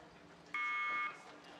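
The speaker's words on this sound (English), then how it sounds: "And they're off, the green light, the buzzer" A single steady electronic start buzzer sounds for about half a second at a World Rowing Under 19 championship race in Varese, Italy, loud over a quiet outdoor background.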